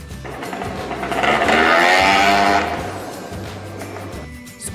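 A scooter engine from a children's cartoon about vehicles rises to a loud, buzzing rev that peaks midway and then settles into a lower steady drone, with no talk over it.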